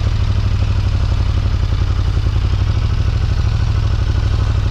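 A 2018 KTM Superduke 1290 R runs steadily at idle, a loud, close, deep, even engine rumble with a fast regular pulse and no revving throughout.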